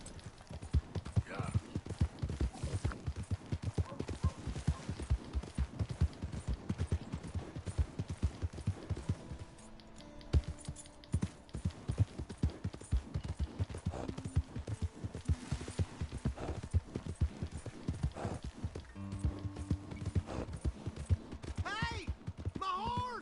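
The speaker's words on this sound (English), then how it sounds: "Hey! My horse!" Horse hooves clip-clop steadily in the video game Red Dead Redemption 2, mixed with other game sounds and music, while a voice talks over parts of it.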